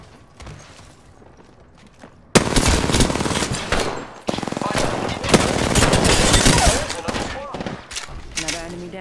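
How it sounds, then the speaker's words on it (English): Rapid automatic gunfire in the Apex Legends battle royale game, loud bursts starting abruptly and continuing in dense volleys with brief pauses, mixed with game effects and a voice talking. "Opening fire on the enemy."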